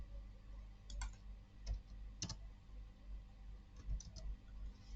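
Keys tapped on a computer keyboard during SQL programming work, a few sparse clicks and short bursts over a steady low hum, fairly faint and close.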